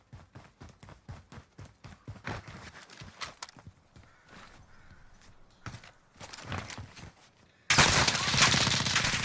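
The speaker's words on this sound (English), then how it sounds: "As soon as I realize that I'm getting shot in the back" Video game gunfire in a 1v1 gunfight, rapid bursts of close shots in quick rhythmic volleys, pausing and resuming, ending in a sudden loud sustained blast of noise.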